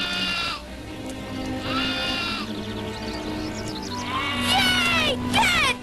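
Cartoon goats bleat in a wavering chorus, several loud overlapping cries rising and falling across the clip, with a quieter stretch in the middle before a strong burst near the end.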